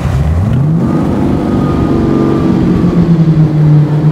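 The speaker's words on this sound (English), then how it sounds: "And as I accelerate, listen to the noise." A replica AC Cobra with a V8 engine accelerates on a drive near Melbourne, its loud, deep exhaust note climbing in pitch through a gear and then settling into a throaty rumble, close and with no talking over it.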